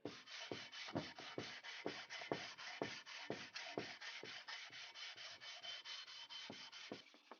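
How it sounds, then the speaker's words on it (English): Steady back-and-forth rubbing of a sanding block on a motorcycle engine case, a continuous gritty scrape with regular strokes, close and alone. "I'm going to try to keep the sanding block moving around the case"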